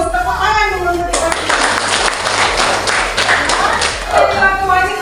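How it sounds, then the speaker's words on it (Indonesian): Classroom group of children clapping hands together, a burst of dense clapping that starts about a second in and stops near four seconds, framed by talking before and after. "Tepuk tangan dulu untuk kita."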